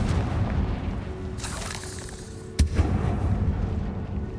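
Blasting spell explosions in Hogwarts Legacy, a deep rumbling game blast with a sharp crack near the middle and a second thump following, over continuous low game ambience.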